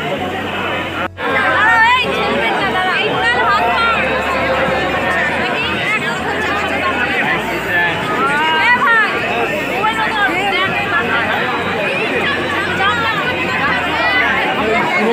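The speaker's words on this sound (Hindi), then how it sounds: "यहाँ पे कितना भीड़, काफ़ी भीड़ है फ्रेंड्स।" Crowd chatter at a Durga Puja pandal in Kolkata, a dense, steady babble of many voices close by and all around, with nearer talk over it.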